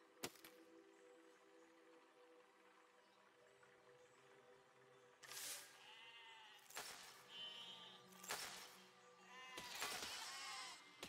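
Several loud sheep bleats from the video game Besiege, in separate bursts, each wavering and nasal, over a steady low electronic hum.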